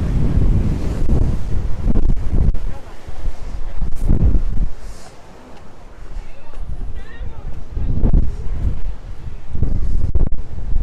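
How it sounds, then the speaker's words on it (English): Strong wind buffets the microphone on the seafront at Sitges near Barcelona, with ocean waves surging in swells and rumbles close to the water, loud and continuous. "Very windy out here. Getting very close to the water. You can see those waves coming in."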